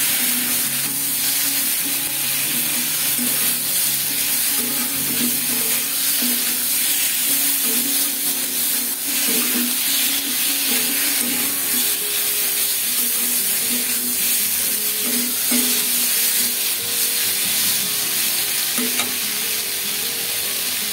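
Potatoes and spices sautéing in a pan for a rohu fish curry, a steady close sizzle with faint stirring scrapes running throughout, with no talking.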